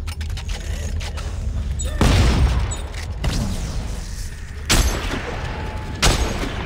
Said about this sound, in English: Or you use rocket launcher.